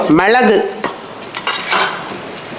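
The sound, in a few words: stirring coriander seeds and sesame dry-roasting in pan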